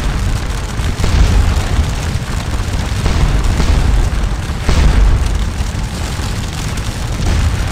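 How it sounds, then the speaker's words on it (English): Massed musket volley fire in the Scourge of War: Waterloo game during a fight for a farmhouse, heard as a dense, continuous roar of overlapping booms and crackles with heavier surges, loud and sustained throughout. "the Nassars fire a huge volley, most of it hitting me"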